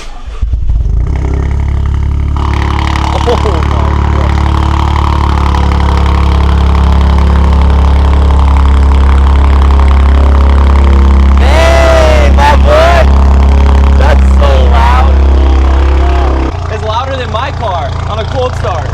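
A Toyota GR Corolla with an aftermarket downpipe idles loudly and close, its engine rumbling steadily before several sharp revs rise and fall, then settling again, with people talking briefly over it.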